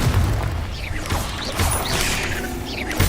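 Confringo blasting spell explosions in Hogwarts Legacy, close and loud, with several thudding blasts and rising whooshing spell effects over a rumbling game background.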